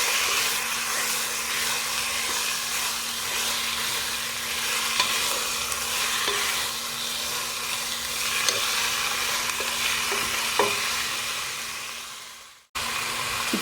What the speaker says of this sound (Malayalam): നമുക്കൊന്ന് നന്നായിട്ട് വഴറ്റിയെടുക്കാം.